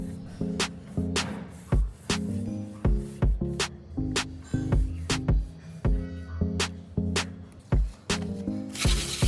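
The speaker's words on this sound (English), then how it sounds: "I continue spraying water." Short bursts of a water spray bottle mist a car headlight during wet sanding with P800 sandpaper, repeated quick hissing spritzes in an irregular rhythm, close and fairly quiet, over a faint background tone.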